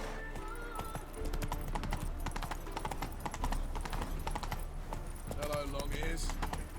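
Hooves of Geralt's horse Roach clip-clopping in The Witcher 3, a steady rhythmic trot with jingling tack under a continuous game soundscape, with a voice talking over it.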